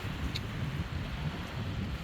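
A strong wind blows across a lake, a steady low roar with buffeting against the microphone and waves churning faintly underneath.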